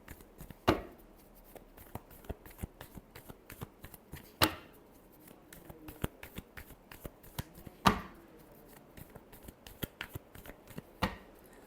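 Tarot cards being shuffled by hand: a steady, close patter of card riffles and flicks with a few sharper slaps standing out, played alone without talking.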